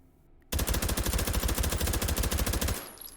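Suppressed H&K MP5 submachine gun fire in the H3VR video game: a sudden, continuous fast burst of muffled, rapid thumping shots lasting about two seconds, then ending abruptly, close and loud with no voices.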